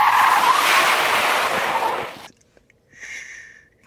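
A Citroën ë-C3 electric car skids under the handbrake, a loud, close tire squeal and scrub lasting about two seconds, then dropping off to quiet with brief faint squeaks.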